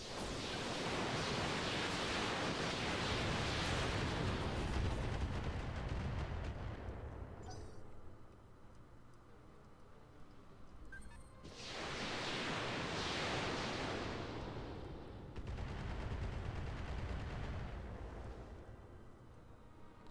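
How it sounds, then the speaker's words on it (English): Weapons fire in the mech combat game Roguetech, a BattleTech mod: loud broadband blasts and roaring bursts come in waves, separated by quieter gaps. "Gonna fire everything on this guy."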